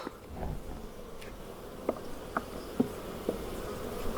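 Honey bees buzzing around hives on the Greek island of Astypalea in the dry season, a steady low drone close by with a few sharp faint clicks and knocks from the frames, no talk.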